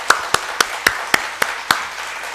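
A church congregation claps in a slow, even rhythm during a year-end worship service, seven or eight distinct claps spaced about a third of a second apart, moderately close and with no voices over them.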